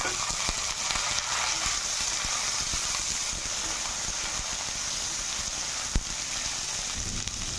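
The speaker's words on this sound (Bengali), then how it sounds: "কুঁদরিটা আলুটাকে ঢাকা দিয়ে ভেজে নেব" Ivy gourd and potato pieces fry in oil in a pan in a home kitchen, giving a steady, even sizzle with a bright hiss and crackle and a faint clink near the end.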